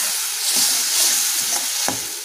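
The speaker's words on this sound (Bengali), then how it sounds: "এবার আমরা এর মধ্যে এই মশলার মিশ্রণটা ঢেলে দেব এবং এটা আবার ভালো করে কষে নেব।" A spice mixture sautés in hot oil in a pan for a fish curry (pona macher jhal) with a steady bright sizzle, while a spoon scrapes and stirs through it in a few distinct strokes, close up with no voices.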